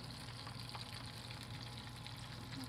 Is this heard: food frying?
yes